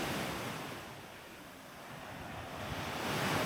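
Waves washing in a steady, soft broadband rush on Kai Bae beach, swelling and easing gently with faint wind noise and no voices.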